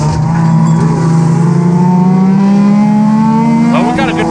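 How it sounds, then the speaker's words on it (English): Stock-class race cars roar together around a figure-eight track, a loud sustained engine drone rising steadily in pitch as they accelerate, with a brief tire chirp near the end and speech faintly mixed in. "We're going green for 25 laps of figure eight racing."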